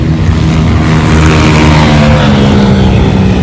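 Loud engine drone of motorcycles passing on a busy street fills the clip, steady and close, with a continuous low throbbing hum and no talk.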